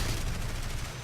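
Rapid aircraft machine-gun fire in the combat flight game War Thunder, a short dense burst of continuous rattling shots, loud and close.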